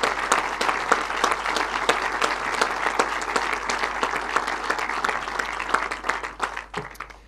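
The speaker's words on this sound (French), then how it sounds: "Je pense qu'on peut applaudir toutes celles et ceux" An audience at a gathering of the French community in South Africa applauds for several seconds, dense sustained clapping from many people, fading slightly at the end.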